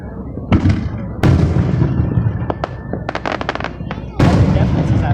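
Fireworks bursting at a firework show, heard up close as loud booming explosions with sharp crackling pops, one heavy blast near the start and another near the end, with people talking and reacting underneath.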